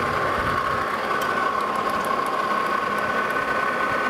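A machine tool chamfers the edge of a leveling screw foot, producing a steady, loud metallic hum with a strong tonal whine that runs continuously throughout without pauses or talk.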